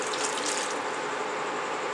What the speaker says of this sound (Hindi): तकरीबन 2 खाने के चम्मच या 3 खाने के चम्मच बराबर पानी डाल दें।